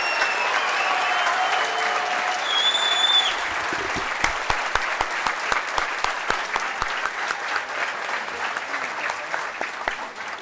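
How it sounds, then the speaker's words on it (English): An audience applauds student honorees at an award ceremony, with steady clapping that builds into sharp, distinct individual claps which gradually thin out, while faint talk and a few whistles sit underneath. "let's give a huge round of applause to all of our 4 student honorees."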